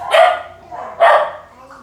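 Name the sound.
dog barking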